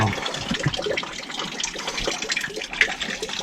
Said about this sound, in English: that's just dripping at the moment